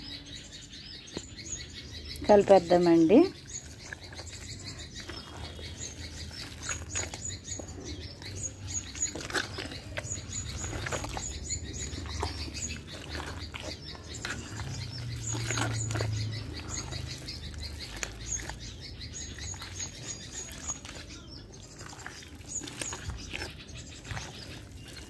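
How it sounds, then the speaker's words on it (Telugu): Small birds chirp and twitter in quick, scattered bursts, fairly faint, alongside soft rustling and a brief spoken phrase near the start. "పక్షులు చూడండి అలాగా కిచ్కిచ్మంటున్నాయా"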